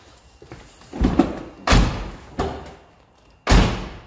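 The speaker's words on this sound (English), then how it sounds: "Make sure all your doors open from the outside and the both front open from the inside." Car doors being opened and closed during pre-MOT checks: soft clicks of handles and latches, then several solid slams and thuds spaced about a second apart, close by and fairly loud, with no talk over them.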